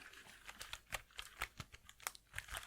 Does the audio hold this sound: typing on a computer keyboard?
yes